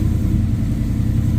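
Ford Mustang GT SN95 with a swapped Coyote engine running just after starting, a close, steady low rumble with a fast even pulse and no voices.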